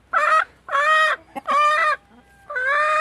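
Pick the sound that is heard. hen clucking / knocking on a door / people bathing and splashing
hen clucking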